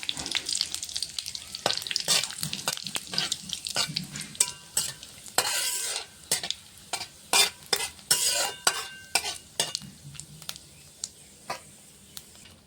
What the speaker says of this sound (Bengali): কড়াইতে দিয়ে দিয়েছি সাদা তেল, ফোড়নে দেবো তেজপাতা, শুকনো লঙ্কা,